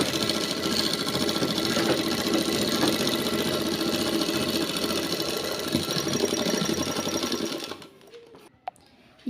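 A sewing machine runs continuously while stitching a trouser pocket, a close, fast mechanical whir that cuts off near the end, leaving faint handling clicks.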